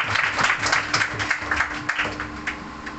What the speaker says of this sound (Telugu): అందరూ చప్పట్లు కొట్టి ఆహ్వానిద్దాం.